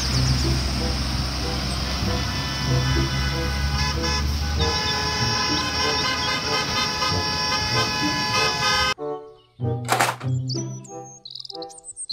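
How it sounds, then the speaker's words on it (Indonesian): A toy school bus horn toots along with electronic tones and a jingly melody, followed by someone talking after the sound cuts off. "mobil bus sekolah"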